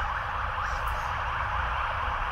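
A police siren wails steadily outside, its rising and falling tone continuous and moderately loud over low traffic rumble, with no talk.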